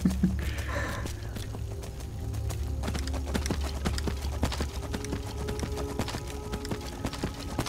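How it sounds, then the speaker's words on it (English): Horse hooves clip-clop in the video game Skyrim, a quiet, steady run of hoofbeats alongside faint game ambience, with no talk over it. "I've got a horse."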